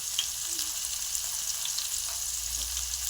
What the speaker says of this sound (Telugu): ఆయిల్లో పసుపు, కారం వేసి వేపుకుందాం.